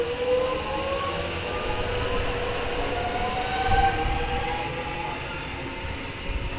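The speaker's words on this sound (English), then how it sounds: "we'll catch the train" A passing train rumbles along rail tracks with a steady low roar and faint metallic tonal squeals, loud and sustained throughout with no voices.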